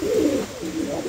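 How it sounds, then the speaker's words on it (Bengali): A Lahori pigeon gives a close, fairly loud coo, a drawn-out rolling phrase followed by a shorter second one, with no talk over it. "মাশাআল্লাহ দেখার মতন একজোড়া কবুতর"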